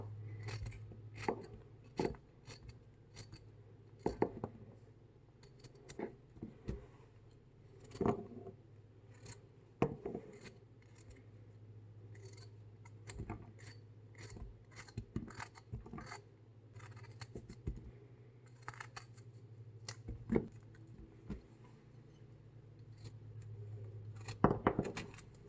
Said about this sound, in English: do the squash. Let's chop off the ends.